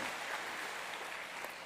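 A congregation applauding together at a Korean church revival service held for police evangelism, steady dense clapping filling the hall throughout without pause.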